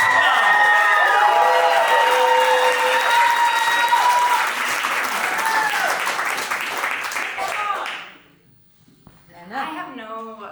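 Applause and cheering from a live poetry festival audience, loud and sustained for about eight seconds with voices shouting through it, then cutting out before a single voice starts talking near the end.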